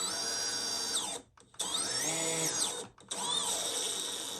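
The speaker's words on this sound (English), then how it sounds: "Now, they'll spin up. But when I lower the throttle," Brushless FETtec drone motors on an Apex quadcopter spin up in a high whining hum that rises and falls with the throttle, dipping twice before surging back, close and loud.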